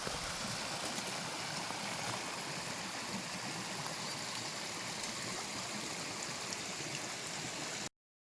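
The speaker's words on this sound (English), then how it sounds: "There's a little stream that's just feeding that waterfall I just took pictures of right over there." A small creek stream feeding a waterfall rushes steadily and continuously at close range, a dense broadband watery hiss with no voices.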